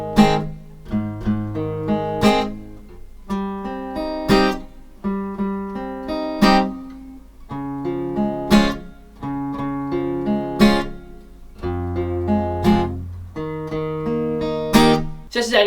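Acoustic guitar plays a song's chord progression, mixing picked bass notes, full strums and arpeggiated patterns in a steady rhythm, close and clear with no talking.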